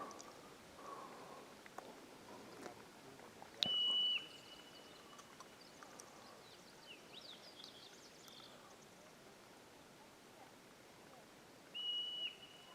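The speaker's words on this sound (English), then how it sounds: "the marmot is whistling in the background, their call they make" Two shrill, piercing marmot whistling calls ring out from a distance, each lasting about half a second and spaced well apart, over quiet outdoor ambience at an alpine lake in Mt. Rainier National Park.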